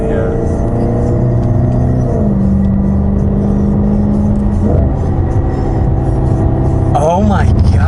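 A 2013 Audi RS5 with a manual gearbox and an X-pipe exhaust sends out a loud, steady engine drone, holding one pitch for a while before the revs climb sharply near the end.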